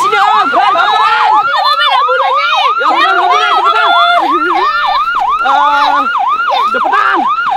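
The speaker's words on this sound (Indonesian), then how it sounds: "itu kan mobil ambulan, Ren." An ambulance siren wails loud and close in a fast, repeating warble that runs without a break, with people talking underneath.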